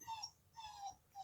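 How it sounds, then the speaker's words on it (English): A dog whimpers softly in a few short, high, wavering whines, faint and close, with quiet gaps between them. "That's my dog."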